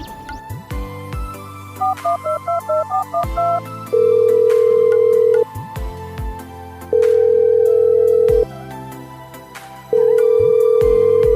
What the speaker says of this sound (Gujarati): અરે ફોન નથી ઉપાડતી યાર